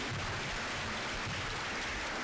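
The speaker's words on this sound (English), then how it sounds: "Let's have a round of applause as he comes to the stage." Audience at a World Children's Day event in Kenya applauding as a guest walks to the stage, a steady wash of dense clapping with no voices.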